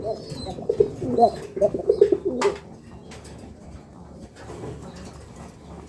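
A pair of brick-coloured pigeons at a pigeon farm coo nearby, giving several soft, throaty calls in the first half before things go quieter.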